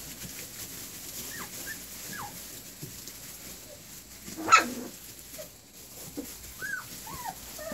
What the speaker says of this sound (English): Here are Vixen's puppies.